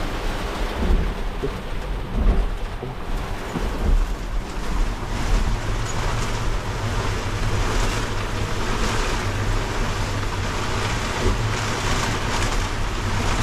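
Strong wind roars continuously against the microphone, buffeting and gusting with a low rumble and rushing water or surf beneath, loud throughout.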